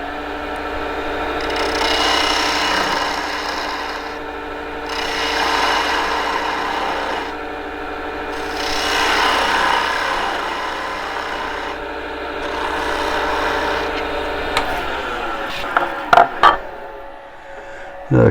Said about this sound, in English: Now I can get that a little closer with a detail gouge.